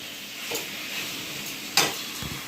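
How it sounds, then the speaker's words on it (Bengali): Spice paste sizzling steadily in hot oil in a pan for a fish curry, simmered down on low flame, with soft stirring scrapes and a sharper clatter near the end; no talking. "এরপরে এটাকে লো ফ্লেমে কষবো যতক্ষণ না জলটা ভালোভাবে মরে তেল ছেড়ে দেয়"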